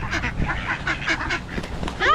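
Ducks quack repeatedly at feeding time, near and busy, with overlapping calls and a goose-like honk near the end.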